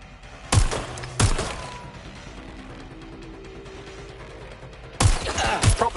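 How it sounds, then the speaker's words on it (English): Video game gunfire on a PS5, heard as a few sharp, loud bursts: two close together near the start, then a quiet stretch, then two more near the end. "I'm getting shot at here!"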